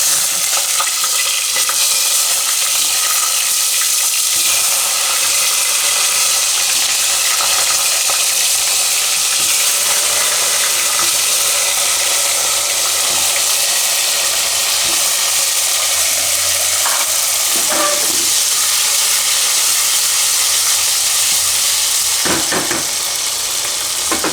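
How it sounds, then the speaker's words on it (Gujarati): Cumin seeds and asafoetida hit hot oil in a pan, producing a loud, steady sizzle and crackle that continues throughout with occasional stirring scrapes. "તેલ આપણું ગરમ થઈ ગયું છે તેમાં જીરું નાખશું અને હિંગ નાખીશું"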